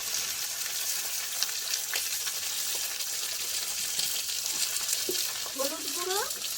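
Okra sizzling in a pan with fried onion, sesame and mustard seeds, a steady hiss of hot oil with occasional stirring clinks and a faint voice briefly in the background.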